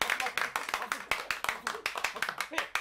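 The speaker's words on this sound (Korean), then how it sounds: "우리 다 같이 박수 한번 치자." A small group of people clap their hands together in a quick, uneven flurry of distinct close claps, with voices talking over them.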